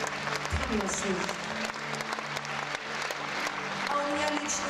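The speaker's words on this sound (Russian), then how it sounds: "Аплодируем вместе с нами." Audience applause at a televised show, a steady wash of clapping that runs throughout, with someone talking over it and background music.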